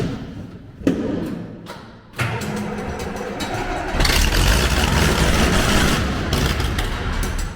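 A farm engine cranks over after a couple of sharp thuds, catches with a loud steady rumble close by, and keeps running through the rest of the stretch.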